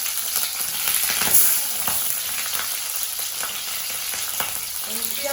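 A pan of taro leaves and tomato frying: a dense, even sizzle with occasional scraping stirs, close and fairly loud, and no talking.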